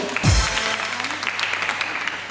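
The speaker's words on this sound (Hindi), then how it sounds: "अभी तालियां रुकेंगी नहीं।" Studio audience applause greets a guest's entrance on a Pakistani TV talk show, a dense steady wash of clapping that holds at an even level throughout with a brief low thump near the start.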